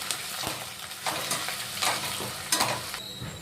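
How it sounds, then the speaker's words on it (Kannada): Onion and a bay leaf frying in hot oil in a pan, a steady bright sizzle with several scraping stirs of a spoon rising over it, close and alone without speech. "ನೋಡಿ, ಇದು ಪಲಾವ್ ಎಲೆ. ಇದು ಸ್ವಲ್ಪ ಫ್ರೈ ಮಾಡ್ಕೊಂಬೋದು."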